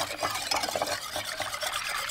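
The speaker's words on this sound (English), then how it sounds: "Give that a good whisk." A whisk beats a mixture in a bowl over low-medium heat, producing a quick, steady run of close scraping and swishing strokes with no talk.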